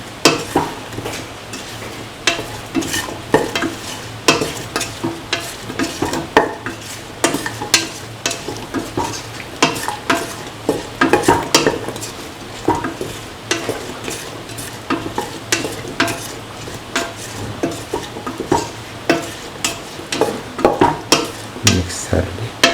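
Bottle gourd rice with scrambled egg gets stirred in a frying pan, a brisk, continuous run of spatula scrapes and clinks over a low sizzle, close and steady throughout.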